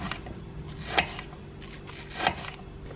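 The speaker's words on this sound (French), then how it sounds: "Avec ma pomme que je taille en mandoline, je réalise de fins bâtonnets." Two sharp crisp cuts as an apple is sliced into thin sticks on a mandoline, spaced about a second apart, close and clear over a quiet kitchen background.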